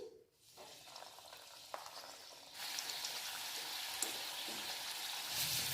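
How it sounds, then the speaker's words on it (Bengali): Quiet background at first, then oil bursts into a loud, steady sizzle as spoonfuls of semolina and urad dal batter drop in, continuing evenly to the end. "এগুলো চামচ করে তেলের মধ্যে দিয়ে দিচ্ছি"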